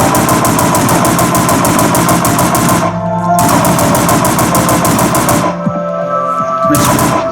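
Rapid, loud machine gun fire from one of the cheaper machine guns in the Scorched Bronze addon for Minecraft, bursting continuously with two short breaks between long sustained volleys.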